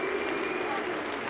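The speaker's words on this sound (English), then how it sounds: "the crowd here giving Zach Duke a nice ovation for the effort he's had so far today" Baseball stadium crowd applauds pitcher Zach Duke, a brief wash of clapping and cheering heard over a commentator's voice.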